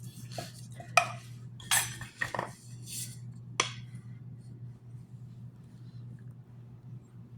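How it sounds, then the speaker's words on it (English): A wooden spoon stirs thick biscuit dough made with milk in a bowl, giving several close knocks and scrapes in the first few seconds before the sounds fade under a steady low hum. "and stir it up and try not to make too much of a mess stirring it"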